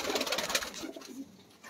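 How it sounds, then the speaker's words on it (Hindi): Pigeons at a breeder's loft make soft cooing calls amid a busy, chattering bird backdrop, steady and fairly close throughout, with no talking. "यहाँ पे कबूतर"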